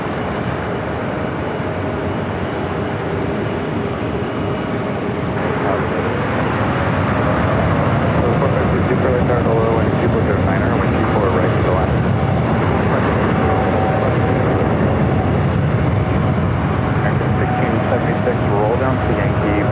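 A Lufthansa Airbus A380 lands at Los Angeles International Airport, a loud, continuous broadband jet roar that builds after several seconds and holds steady for the rest of the clip.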